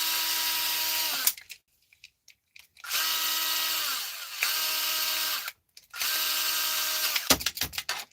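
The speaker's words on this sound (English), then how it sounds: "I charge this drill, guys, off the solar panel." A cordless drill charged from a small solar panel backs screws out of scrap metal in a shed, whirring in three sustained bursts separated by silent pauses, then a few short stuttering pulses at the end.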